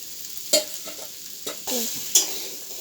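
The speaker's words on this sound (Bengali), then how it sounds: "মশলাটা কষানো হয়ে গেছে, দিয়ে দিচ্ছি ভেজে রাখা আলু" Fried potatoes tipped into a sizzling pan of cumin and coriander spice paste for a thin drumstick curry, with a few sharp clatters and stirring scrapes over a soft, steady fry.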